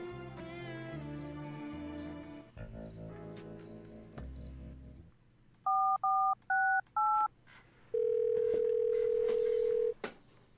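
Telephone keypad tones in the video game Thimbleweed Park: after a stretch of game music, four short loud dialing beeps in quick succession, then a sustained steady tone lasting about two seconds.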